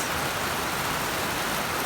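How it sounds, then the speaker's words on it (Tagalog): Heavy rain pouring down in Dauis, Bohol, a dense, loud, steady hiss of falling water close by, with no other sounds breaking through. "So nikusog-kusog na ang ulan"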